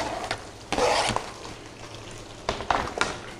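Chopped onions, four medium ones, drop into a cup of hot oil for a masala, giving bursts of loud sizzling and stirring scrapes at the start and again near the end, with a steady crackle in between.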